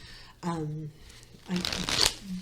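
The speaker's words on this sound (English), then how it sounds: "Now, I'm actually doing a shuffle, and these are the Insomnia Tarot" A deck of Insomnia Tarot cards is shuffled by hand in quick riffling bursts that sit close and fairly quiet, while a person talks between and over them.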